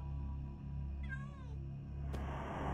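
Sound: cat meowing in a video game horror map

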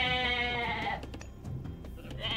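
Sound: goats bleating in the video game Age of Mythology: Retold

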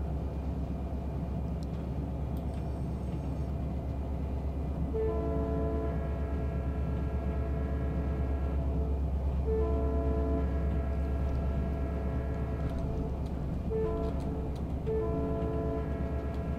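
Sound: freight train and horn in video game Run 8

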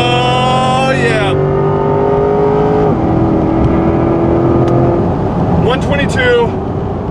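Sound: 2024 Corvette E-Ray Hybrid accelerating on the straight

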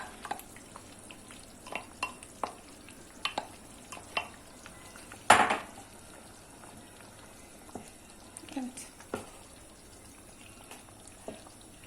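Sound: stirring garlic and pickle mixture in a pot

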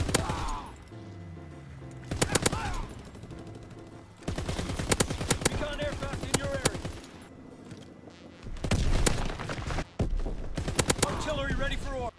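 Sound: LAD machine gun firing in Call of Duty WW2 video game

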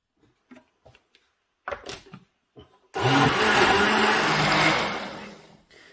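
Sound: blender blending herbs and spices into juice

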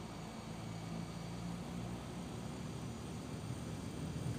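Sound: Pratt & Whitney PT6A turboprop starting, Super Tucano in X-Plane video game

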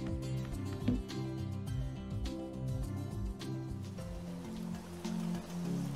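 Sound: rain in Monster Harvest video game

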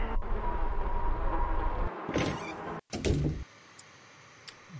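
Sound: door unlocking and opening in a video game

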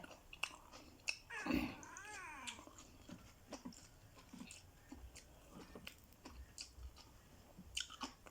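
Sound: chewing while eating rice with pork larb and vegetables

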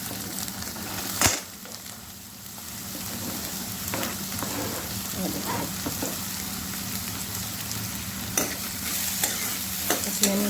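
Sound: onions frying and being stirred for saag

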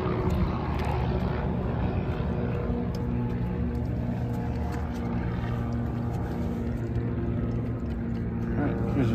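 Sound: Southwest airliner taking off

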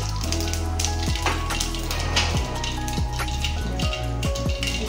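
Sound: mustard seeds sizzling in hot oil

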